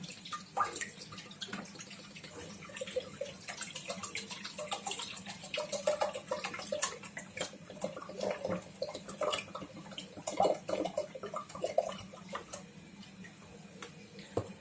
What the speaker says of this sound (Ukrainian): Виливаємо в кастрюльку